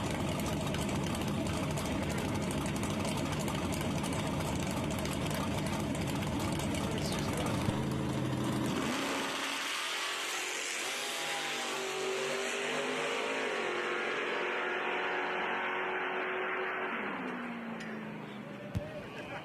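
A drag race at Shadyside Dragway: a loud engine roars through the first half as a dragster and a Chevelle launch, then fades to a distant whine and rumble.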